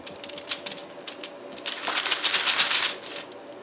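Sliced zucchini pieces are spread across parchment laid over paper towel, a close run of soft clicks and crinkly patter that grows busier toward the end, with no talking.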